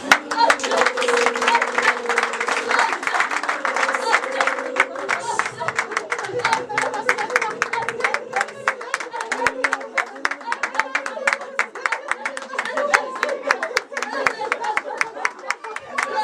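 A church congregation claps and applauds steadily throughout, a dense rhythmic patter of many hands, with voices and sustained singing or shouting running underneath.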